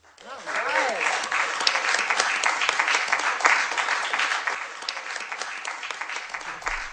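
A handful of people applaud after a city council vote passes just past midnight, a thin, steady clatter of clapping lasting several seconds while a voice speaks over it.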